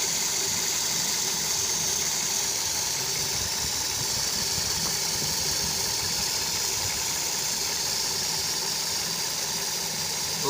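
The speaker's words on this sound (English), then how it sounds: "the engine is running" A Toyota engine idles steadily throughout, a constant low rumble with a faint whine and slight vibration, no voices.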